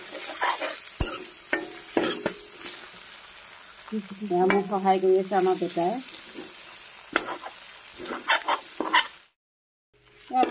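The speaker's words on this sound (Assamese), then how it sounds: "এতিয়া এইকেইটা মাছৰ মাথাকেইটা অলপ ভাজি ল'ম" Fish heads fry in a hot pan, a steady sizzle with scraping stirs and clinks of a utensil, while a person talks briefly nearby and a voice rises in the middle.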